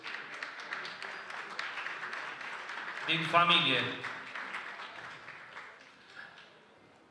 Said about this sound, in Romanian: O puteți aplauda și pe Oana